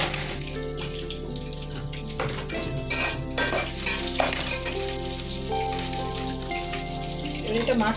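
Chicken with garam masala and other spices sizzles and fries in a pan while being stirred, steady frying hiss with scraping and clinking of a utensil against the pan up close.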